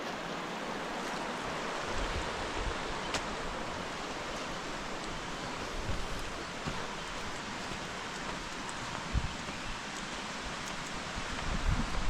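Hebbe Falls at Kemmangundi roars as a constant broadband wash of falling water, steady and enveloping, with faint rustles and no voices.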